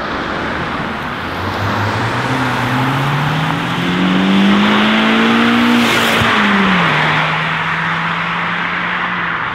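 A Mazda MX-5 drives past, its engine note rising and sweeping as it approaches and then dropping as it goes by, loud over steady road and wind noise.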